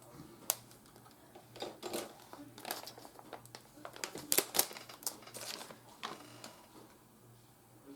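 A paper packet is torn open and handled, with a series of crinkling, rustling bursts close by.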